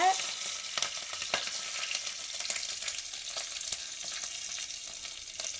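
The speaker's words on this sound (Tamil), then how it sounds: "நான் முழுசாக ஒரு நாலு பச்சை மிளவா பாருங்கள் அப்படியே போடுறேன்" Whole green chillies crackle and sizzle steadily in hot oil for mutton biryani, a dense close-up frying hiss with frequent sharp pops, no voices.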